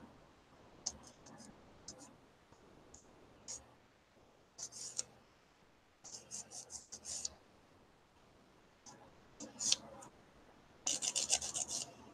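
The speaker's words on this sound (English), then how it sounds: "I had a little bubble on the side and I got it off. That's just by simply filing a little" A nail file rasps against a gel nail in short, quiet bursts of scratchy rubbing, separated by pauses, as a small bubble on the side of the nail is filed away. Occasional faint clicks come through, and no one speaks.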